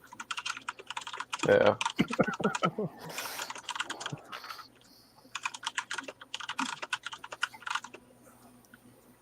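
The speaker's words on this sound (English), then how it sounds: "That's the extent of my typing skills." Rapid clicking on a computer keyboard comes in several bursts with short gaps between them, close and moderately loud, and a voice briefly says a word partway through.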